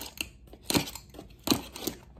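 Small pink scissors snip a couple of times, close and crisp, to cut through the seal of a subscription beauty box, with some light crinkling of packaging in between.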